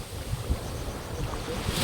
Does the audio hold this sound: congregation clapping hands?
no